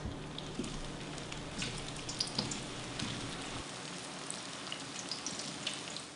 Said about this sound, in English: So we cut the plantains and we put them in the hot oil.